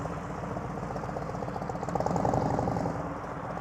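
Motorcycle engine idling and pulsing low during a slow parking-lot U-turn under clutch control, a quiet steady chug that swells briefly in the middle as the throttle is eased on, then settles back.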